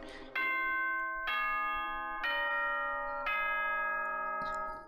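A school broadcast chime from the video game Danganronpa 2 rings out as four clear, sustained bell-like tones in descending-ascending sequence, each struck note ringing over the previous, alone and fairly quiet.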